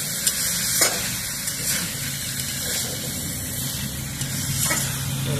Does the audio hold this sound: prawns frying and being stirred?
yes